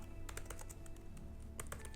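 Rapid keystrokes on a computer keyboard in bursts of sharp clicks, steady and fairly close, over a low background hum with no voice.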